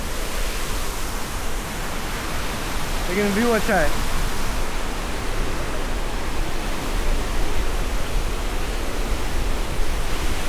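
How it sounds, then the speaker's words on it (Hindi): A waterfall at Cabo de Rama in Goa rushes as a steady, loud broadband roar that fills the whole scene, with a person speaking briefly over it. "तो कुछ ऐसा वाटरफॉल है ये।"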